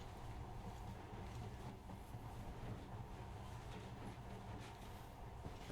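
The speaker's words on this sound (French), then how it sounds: "Maintenant, ce monorail a l'air magique, pas vrai?" Monorail train in the video game Metro Last Light Redux running steadily, a continuous low rumble with rolling rail noise and a faint airy hiss throughout.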